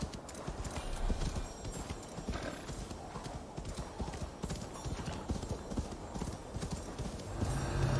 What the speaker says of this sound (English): Hello, horsey.